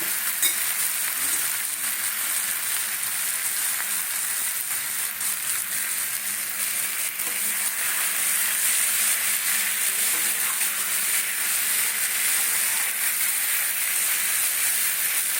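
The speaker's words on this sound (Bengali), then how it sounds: "এইবারে মাশরুমটাকে দিয়ে দিচ্ছি ওই মশলার মধ্যেই দিয়ে দিচ্ছি" Button mushrooms added into a frying spice masala, a loud, continuous hissing sizzle with faint stirring scrapes, steady throughout and free of speech.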